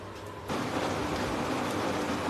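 Steady rain comes in abruptly and keeps up as a dense, close hiss of drops, with no voices over it.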